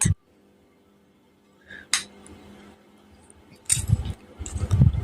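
A metal spoon clinks and scrapes against a plate in a few short bursts as rice is served, close by, with quiet pauses between.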